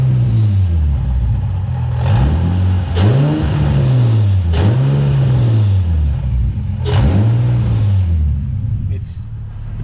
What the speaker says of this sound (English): I'll show you the exhaust rattle I'm talking about